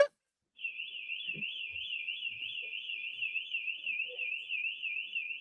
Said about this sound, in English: I need them to fix that alarm, okay? Because that's kind of annoying.